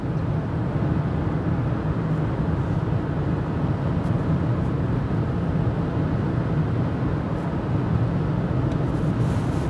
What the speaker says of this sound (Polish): Bardziej słyszę szum opływającego samochód powietrza, nic poza tym.